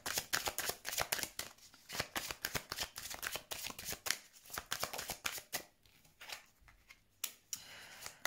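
Cards shuffled by hand for a card reading, a close, crisp riffling with repeated quick bursts and pauses, fairly quiet and with no voice.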